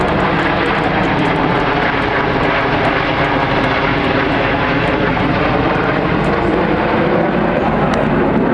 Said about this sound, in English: all 9 jets will now smoke in the diamond roll